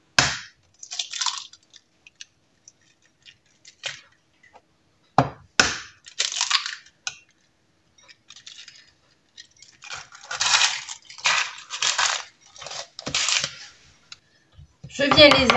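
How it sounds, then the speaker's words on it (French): Three eggs cracked one after another for chocolate chip muffin batter: short sharp taps and cracks separated by quiet gaps, close and clear with no talking over them. "Donc là, je viens casser 3 œufs"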